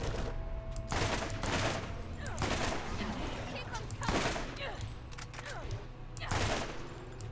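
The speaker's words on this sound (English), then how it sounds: "I'm just sat up here shooting down at the buggers." Rapid gunfire in the video game Borderlands, fired down at enemies from a high spot, with bursts of repeated shots over continuous game noise and a voice talking at times.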